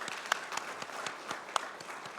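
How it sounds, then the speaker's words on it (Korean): Sparse congregation applause at a Korean Sunday church service after a choir anthem, a few scattered claps rising out of a quiet room, fairly faint and without talk. "영광의 박수 올려드리겠습니다."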